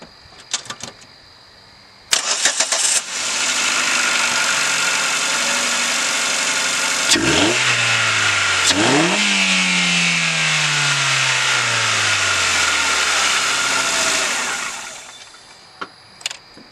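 A small car engine, one being built toward 100 horsepower, cranks and catches, then idles loudly and revs up and down twice on a test drive, a steady close roar holding until it fades near the end.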